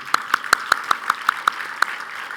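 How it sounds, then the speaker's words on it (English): At a Bottom Line Chicago Rise Up 2022 event, a single pair of hands claps in a steady, evenly spaced rhythm, about eight crisp claps close by over a soft background of other applause. "Please, let's applaud you."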